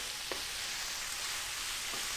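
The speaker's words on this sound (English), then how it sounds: "Just that sizzle, sizzle, sizzle." Corn fries in olive oil with a faint, steady, hissing sizzle, broken by a couple of soft stirring clicks.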